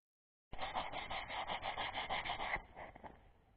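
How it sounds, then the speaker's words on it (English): Sanding rust off a Kawasaki Ninja ZX6 motorcycle, a close, steady rasping scrub with rapid back-and-forth strokes for about two seconds, then a quieter, looser scratching as it tapers off. "You can see some of the rust spot already starting to go away the more that I sand."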